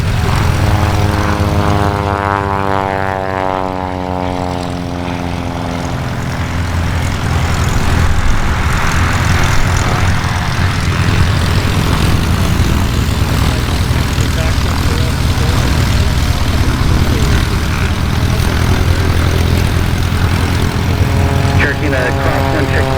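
A light propeller aircraft in the traffic pattern at an airfield during a busy fly-in event drones continuously, loud and close at first and then shifting in pitch as it passes, with radio talk over it.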